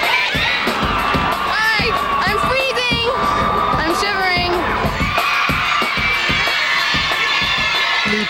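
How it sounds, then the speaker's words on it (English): A big homecoming crowd at a high school football game cheers, whoops and yells continuously and loudly, with children shouting among the roar. "Big homecoming crowd here."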